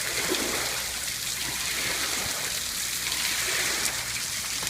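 Heavy rain pours down steadily outdoors near a pool, a dense, even hiss of water on surfaces with no breaks, close and constant throughout.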